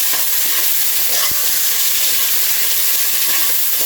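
Chopped tomatoes sautéing in a hot pan for pork sinigang, a dense, steady, loud sizzle with faint stirring scrapes running throughout.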